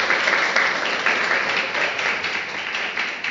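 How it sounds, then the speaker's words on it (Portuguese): A church congregation applauds in a steady, dense burst of clapping that holds evenly at moderate loudness throughout, with no speech over it. "Pode aplaudir a poderosa palavra de Deus."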